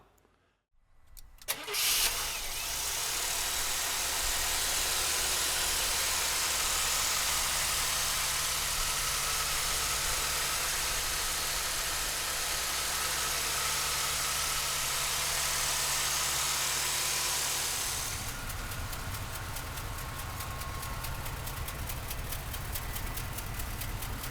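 A 1985 Buick Riviera engine cranks briefly and catches, then settles into a steady, loud idle that carries on alone with a slight change in tone near the end.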